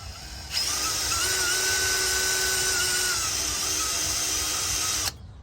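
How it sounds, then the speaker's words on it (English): A drill with a 2mm bit starts up and runs in one steady, high-pitched whine for several seconds before stopping abruptly, loud and close, drilling a pilot hole while installing KDSS front sway bar billet clamps. "now I'm gonna come in with the drill bit. So I'm gonna give it a little pilot hole."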